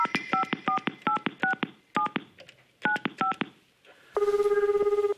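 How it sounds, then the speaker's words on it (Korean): Touch-tone telephone keypad dialing a number for a call on a Korean TV talk show: a quick rhythmic series of clear DTMF beeps, then a steady ringback tone, loud and close with no talk. "바로 좀 전화 연결해볼게요."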